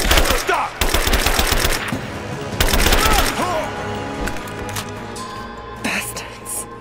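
Rapid automatic gunfire in Rise of the Tomb Raider, loud broadband bursts in repeated volleys with brief pauses and a final isolated blast, under shouted voices.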